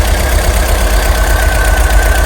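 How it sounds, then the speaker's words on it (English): A 44-year-old 1981 VW T25 campervan engine idling at the rear, a steady even rumble with a dense mechanical clatter, loud and close, with no talking. "I'll just show you the engine running"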